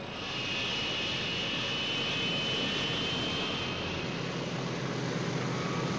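Engines of a Convair B-36 Peacemaker bomber drone in a loud, continuous roar that holds steady throughout, with no voices over it.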